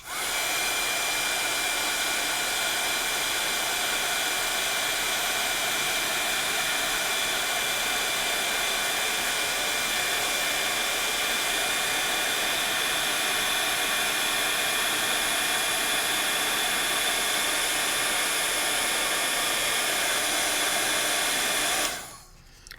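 A heat tool blows over embossing powder on a stamped card, making a loud, steady whirring blast that runs without a break for about twenty seconds before switching off.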